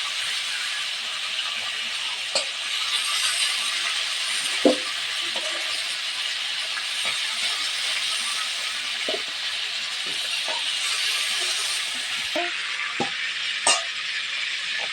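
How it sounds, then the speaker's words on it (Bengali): Chicken pieces fry in hot oil with a steady, even sizzle, while occasional scrapes and clacks of a spoon stirring the meat in the pan stand out against it. "মাংসটা একটু নেড়ে দিলাম, আর একটু ভাজা হবে।"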